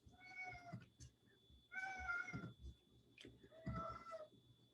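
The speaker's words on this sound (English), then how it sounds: "Sorry, my cat's a little grumpy." A grumpy house cat meows three times in drawn-out, complaining cries, each fairly close and separated by short pauses, over faint indoor background noise.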